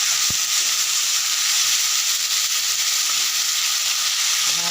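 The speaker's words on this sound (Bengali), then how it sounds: "আলু ভাজা হচ্ছে" Potatoes fry in a pan on a home stove, giving a steady, close, continuous sizzle with no one talking.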